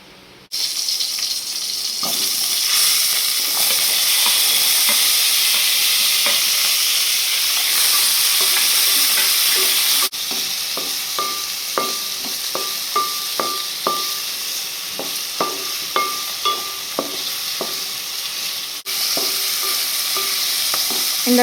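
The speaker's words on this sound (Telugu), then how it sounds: "ఇప్పుడు ఆయిల్ పోసుకొని ఆనియన్, పచ్చిమిర్చి, టమాటో, ఈ అల్లం వెల్లుల్లి లైట్గా ఫ్రై చేసుకుందాం." Onion, green chilli, tomato and ginger-garlic fry in oil for a stuffed brinjal masala curry, a loud continuous sizzle heard close up, joined midway by repeated clinks and scrapes of stirring.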